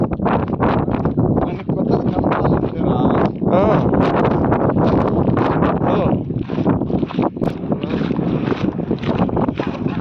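Gusty cold wind on a mountain climb buffets the microphone in loud, uneven rumbling bursts throughout, with faint voices mixed beneath the blustering.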